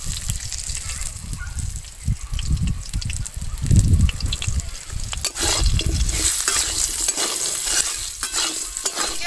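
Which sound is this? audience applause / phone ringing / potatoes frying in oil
potatoes frying in oil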